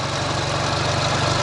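A Ural motorcycle engine runs with a steady, low, rhythmic thrum, close and continuous, with no other sounds over it.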